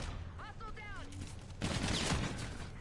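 NV4 rifle gunfire in a Call of Duty match: a dense burst of rapid shots erupts partway through, loud and close, after a quieter stretch with faint whistling game tones.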